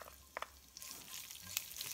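Chopped onion hitting a hot pan for a sautéed green sponge gourd dish, with steady sizzling frying throughout and a couple of brief sharper crackles near the start.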